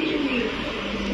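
A male pigeon coos nearby, a soft continuous throaty murmur with no other sounds and no talk.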